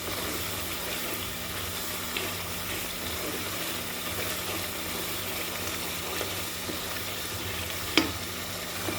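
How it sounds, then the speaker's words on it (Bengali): Spice masala for goat-meat biryani fries in a pan with a continuous, soft sizzle and hiss, steady and fairly quiet, with one brief clink of a utensil near the end. "মশলাটা ভালোভাবে এখন আমি কষিয়ে নেব।"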